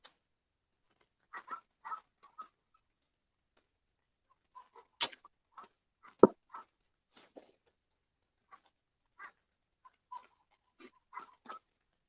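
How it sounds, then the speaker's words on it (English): Dogs barking at night in the distance, faint scattered yaps and barks spread sparsely across a quiet background, with one or two slightly closer, sharper barks. "Can you hear those dogs?"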